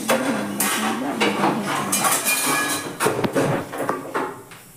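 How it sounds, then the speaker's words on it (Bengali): Pots, a kadai and dishes being scrubbed and washed by hand: close, continuous scraping and rubbing with running water, broken by repeated metallic clanks and knocks of utensils. "বাসন টাসন পড়েছিল সেগুলো আবার মাজা ধোয়া করে নিচ্ছি"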